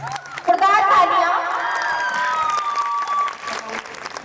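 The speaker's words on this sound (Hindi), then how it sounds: "जोरदार तालियां।" A university fest crowd at a women's college campus breaks into loud applause, with whoops and shouting voices riding over the clapping before it gradually thins out.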